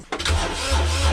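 A car engine with freshly fitted spark plugs cranks briefly and catches almost at once, settling into a steady low idle close by.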